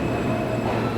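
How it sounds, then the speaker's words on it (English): A New York subway D train rumbles loudly and steadily close by as it arrives at 47th–50th Streets–Rockefeller Center station, a continuous roar of wheels on rails with a faint high whine above it. "Oh, here comes the D train, look."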